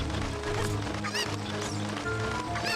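Chicken clucking in a Zelda video game, a series of short squawky bird calls over a busy game soundtrack with music and effects, repeating across the span.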